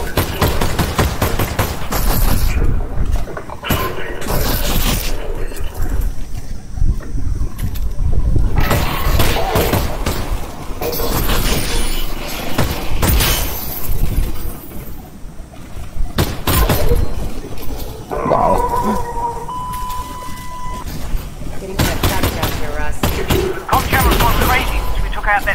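Gunfire in the VR shooter Half-Life: Alyx against Combine soldiers: dense bursts of shots and impacts run nearly throughout, loud and close, over game noise and shouted voices.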